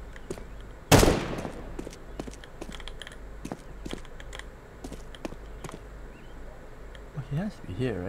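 A single sharp, loud gunshot rings out early in a Counter-Strike round, followed by scattered light clicks and faint in-game noise, with players' voices talking near the end.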